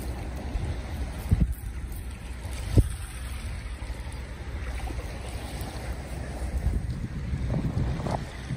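Wind rushes against the microphone outdoors in a warm spot, a low, uneven rumble with a few sharper gusts and thumps, steady in the background with no speech.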